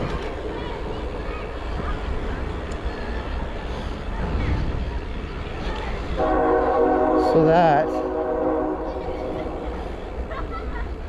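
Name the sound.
small park railway train running past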